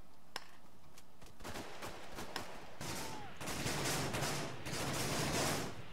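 Video game gunfire crackles in irregular bursts of rapid shots, fairly faint and distant, with a soft whistling tone partway through and no voices.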